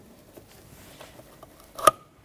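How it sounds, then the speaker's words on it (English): The red locking arm of an electrical connector on a 2007-2017 Jeep Patriot snaps into place during brake master cylinder work, a single sharp close click after a few faint handling sounds in a quiet space. "And it locks. You can hear it click."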